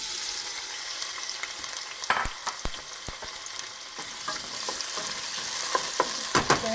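Garlic fries golden in a pan with a soft hiss, then chopped tomatoes drop in and a spoon stirs, giving sharp clatters and scrapes over the sizzle that grows a little louder toward the end.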